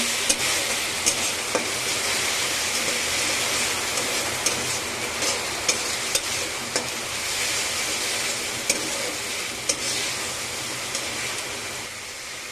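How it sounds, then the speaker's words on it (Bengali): Chicken kosha frying in a pan with ground spice paste, a dense continuous sizzle like steady rain, dotted with light clicks and taps of the stirring spoon, close and unbroken with no talking. "এবারে একদম ভালো করে মিশিয়ে একটু নেড়ে চেড়ে আর একবার করে কষিয়ে নেব।"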